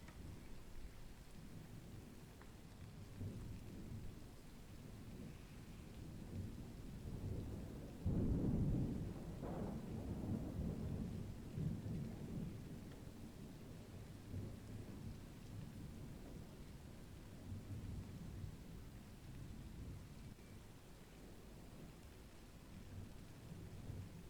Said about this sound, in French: mais généralement il y a l'orage